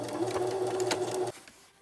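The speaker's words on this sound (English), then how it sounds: "Stitch it back and forth so it stays secure." A sewing machine stitches a DIY camera case in a fast, steady mechanical whir for just over a second, then stops abruptly; close and fairly quiet, with no talk.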